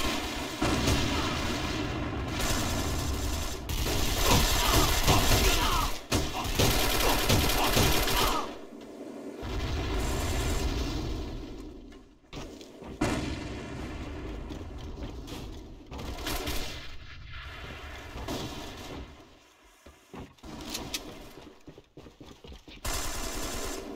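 Video game combat with sustained rapid gunfire and booming grenade explosions, dense and continuous, with brief lulls between volleys.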